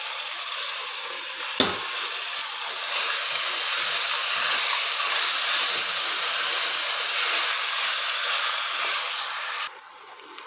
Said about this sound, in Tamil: இதில் இந்த மேரினேட் பண்ணியிருக்கிற மட்டனை ஆட் பண்ணிக்கலாம்.